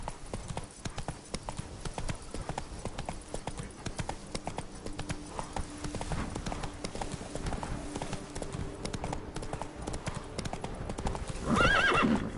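The horse Roach galloping in a video game, a continuous rapid clip-clop of hooves under a steady background, with a brief whinny near the end.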